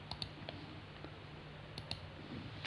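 A computer mouse is clicked on an OK button, producing a few small, crisp, close clicks scattered across an otherwise quiet stretch with faint background hum.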